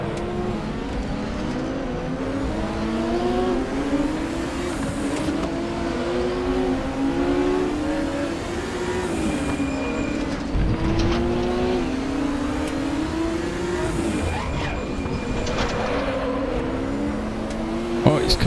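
Race car engine from RaceRoom Racing Experience roars loud and close, revving up and down through gear changes with rising and falling pitch sweeps, a continuous strained drone across the whole stretch.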